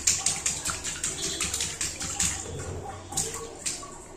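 Water splashes in a child's bath at home, a quick run of rhythmic sloshes and slaps about every quarter second, close and fairly loud, with no talking over them.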